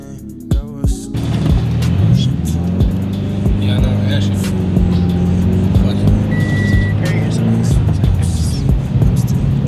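A Subaru BRZ with a weighted shift knob drives steadily, its engine droning and rising in pitch through revs for about ten seconds, with a voice speaking over the engine noise.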